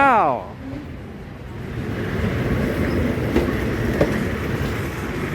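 A passenger train departs Thonburi station, rumbling past nearby with steady rolling rail noise, preceded by a brief horn-like tone at the start; a voice briefly speaks near the beginning.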